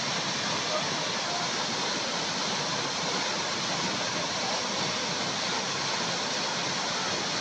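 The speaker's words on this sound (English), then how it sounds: "The beautiful Makalia Falls there." Makalia Falls in Lake Nakuru National Park, a steady, full roar of powerful falling water that stays constant and loud throughout, with no breaks.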